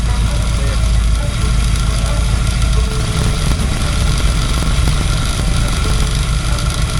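Car engine idling fast right after its ignition timing was set with a timing light, a steady low rumble running continuously and close by with no break.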